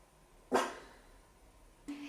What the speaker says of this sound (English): My other dogs are barking.